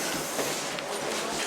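An SNCF train rumbles at a station platform, a continuous, fairly loud rolling noise with faint rhythmic rail clatter throughout.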